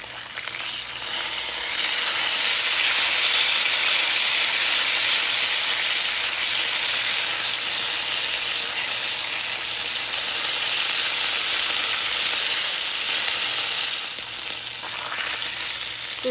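Diced ham fries in an iron skillet, giving a loud, continuous sizzle and crackle that holds steady for the whole stretch, close up and without speech.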